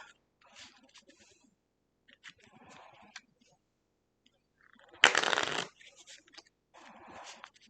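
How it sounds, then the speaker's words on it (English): Board game cards are shuffled in several passes of soft riffling and sliding. One loud, dense riffle stands out partway through, and there is no talk over the shuffling. "you'll take theirs and you're just going to shuffle their deck up."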